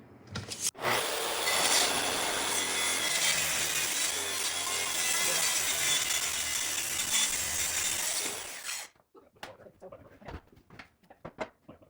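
A power saw recuts an angle, a few degrees off 45, on wood for DIY kitchen base cabinets, a loud steady whine running about eight seconds before cutting off, followed by scattered light clicks and handling noises.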